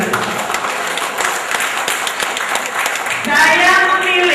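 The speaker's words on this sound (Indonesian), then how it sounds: "Untuk itu tepuk tangan untuk Jember." Crowd applause at an Indonesian political rally in Jember, scattered clapping from the audience, with a voice over a loudspeaker joining near the end.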